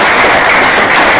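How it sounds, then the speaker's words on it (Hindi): Loud, dense applause from students in a mobile phone eMMC repair training class, a continuous wash of clapping hands that fills the whole short moment close to the microphone. "एक बार ताली बजा दो इन्होंने।"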